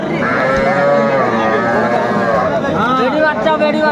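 Cows with calves low at Aftabganj cattle market, their drawn-out moos rising over a constant, loud crowd of people talking and bargaining nearby.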